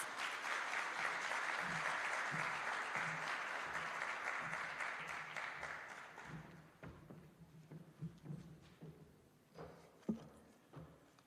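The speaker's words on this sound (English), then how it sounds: "Please give him a big round of applause" Audience at the official launch of the Jamaica Legal Information Portal applauds as a Permanent Secretary comes forward, a dense round of clapping that fades after about six seconds, leaving scattered footsteps and thumps.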